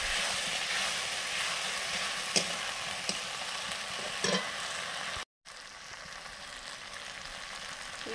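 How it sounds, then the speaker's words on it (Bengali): Potatoes with chili powder sizzle and fry steadily in a pan, with a few sharper stirring clicks and a brief dropout in the middle; no one speaks. "চিলি পাউডার, ভেজে রাখা আলুগুলো দিয়ে দিলাম।"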